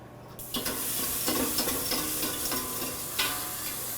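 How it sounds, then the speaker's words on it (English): Milk being added a little at a time to a flour roux for macaroni béchamel while it is stirred in a pan, giving a steady close sizzle with scraping stir strokes throughout and no talk. "so to that we're going to add milk"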